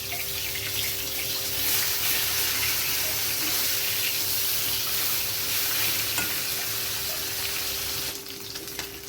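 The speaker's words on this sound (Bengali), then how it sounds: "মাছগুলো লাল লাল করে ভাজা হয়ে গেছে" Turned amudi fish, rubbed with salt and turmeric, frying in hot oil with a continuous loud, close sizzle and hiss that eases slightly near the end, without any talking.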